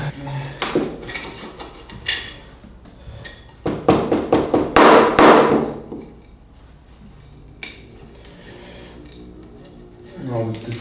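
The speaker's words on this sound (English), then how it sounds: "I'm going to loosen up the tree on the side like this" A small shohin bonsai tree being loosened from its pot gives scattered sharp taps, scrapes and knocks in irregular bursts, near and clear, with a quieter stretch between clusters.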